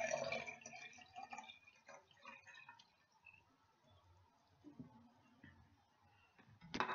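Liquid, likely vinegar for homemade fabric softener, trickles and splashes into a container, faint and close, with soft drips and clinks along the way and a louder burst at the end.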